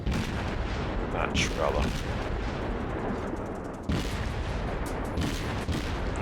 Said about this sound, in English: Here's me attempting to do long-range fire against a distant destroyer.